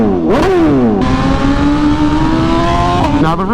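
A BMW S1000RR or M1000RR motorcycle engine revs loudly and close, climbing, holding a high steady pitch, then dropping and rising again in a short burst.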